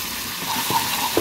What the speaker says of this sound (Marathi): मस्तपैकी तो आता याच्यामध्ये फ्राय करायचा एकदम.